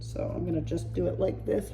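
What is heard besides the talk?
No everyday noises stand out.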